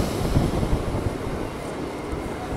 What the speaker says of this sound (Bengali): আর আমাদের ট্রেনটা এখন ঢুকছে হচ্ছে ব্যারাকপুরে।